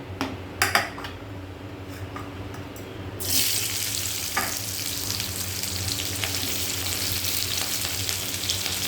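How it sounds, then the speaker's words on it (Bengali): Chopped green chilli and onion go into hot oil in a pan, first a few metal clinks, then a sudden loud sizzle that bursts up and settles into a steady, close crackle. "এবার যে কেটে রাখা লঙ্কা পেঁয়াজ দিয়ে দেবো"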